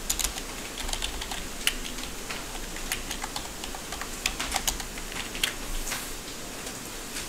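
Rapid, irregular clicking of a computer keyboard comes through clearly as Java code is typed, with keystrokes in quick bursts and brief pauses.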